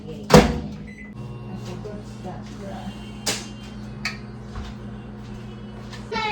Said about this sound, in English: I think I have to put it in the microwave, yeah, so that it will defrost fast